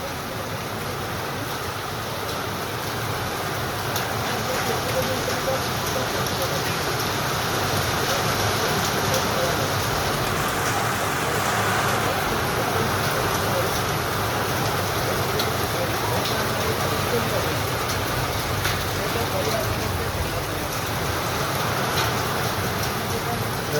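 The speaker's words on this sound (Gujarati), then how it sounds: "ધોધમાર વરસાદ પડી રહ્યો છે" Heavy summer rain pours down in Vadnagar, a loud, unbroken wash of dense drumming and hissing that stays steady throughout.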